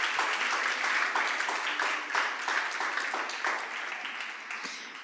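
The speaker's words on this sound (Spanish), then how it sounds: "Dale un aplauso al Señor." A church congregation claps together in sustained, dense applause at a worship service, steady and fairly loud throughout, easing slightly toward the end.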